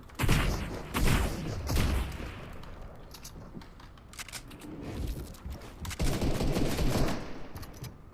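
Rapid bursts of AK rifle fire in a Fortnite solo match, loud clusters of shots at the start and again near the end with quieter game ambience between.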